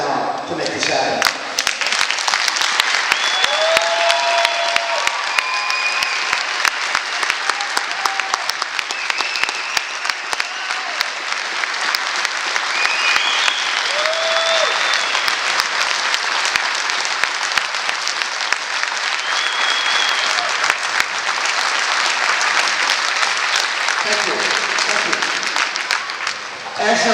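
A standing crowd at a ribbon cutting for the SCHEELS IcePlex cheers and applauds, sustained loud clapping with whoops and whistles rising above it for nearly half a minute.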